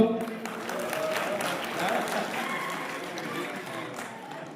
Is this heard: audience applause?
yes